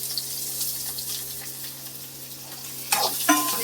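Onions added to garlic frying in a pan for a spinach kadaiyal, with a steady sizzle and soft stirring, then a louder clatter and scrape of the spoon near the end.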